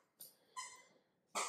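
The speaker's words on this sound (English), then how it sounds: "if you hear squeaking in the background, that is my dog." Corgi puppy playing with squeaky toys in the background, giving three short high squeaks spaced across the moment, faint and a little distant.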